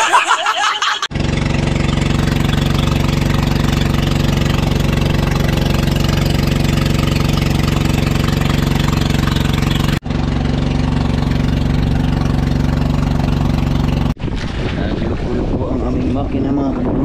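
Boat engine idling out at sea, a steady loud low rumble with a constant hum that runs almost without a break, roughened by wind buffeting the microphone, cut by brief gaps near the start and end.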